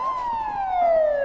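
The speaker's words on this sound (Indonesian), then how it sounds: "Sangku kemudian menghidupkan sirine polisi dari ponselnya untuk menakuti para pengganggu" A police siren played from a mobile phone gives a single loud, thin wail that slides slowly downward in pitch, heard alone without talk.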